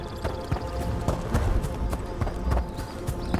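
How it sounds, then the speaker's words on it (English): A summoned horse in Dragon Age: The Veilguard gallops with steady, fairly close clip-clop hoofbeats in a quick rhythm over a soft ambient game background. "Let me summon my horse."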